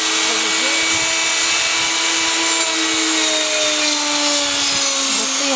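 A power tool cuts into a door to make room for a hinge, giving a close, steady high-pitched motor whine whose tone drifts slightly as it works through the wood, with no speech.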